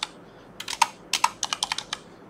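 Quick keystrokes on a computer keyboard typing a search, in short irregular bursts of crisp clicks, close and clear with no talk.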